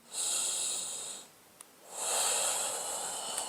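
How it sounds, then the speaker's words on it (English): Deep, audible yoga breaths drawn close to the microphone: two long, loud airy rushes, each over a second, separated by a brief quiet pause, with no talking. "Now inhale,"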